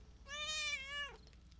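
A domestic cat gives one clear, drawn-out meow lasting about a second, close and moderately loud, rising slightly and then dropping at the end over a quiet room.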